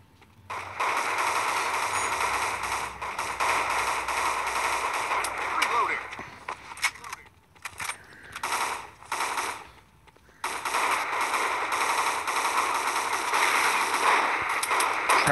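Rapid automatic gunfire from the shooter video game Crisis Action rattles in long, dense bursts, loud and close, with a stretch of scattered shots in the middle before the sustained firing resumes.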